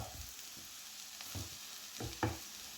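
Spinach thoran is stirred in a hot pan, with a soft steady sizzle and frying hiss under a few distinct scraping stirs of the spoon, close and quiet, no voices.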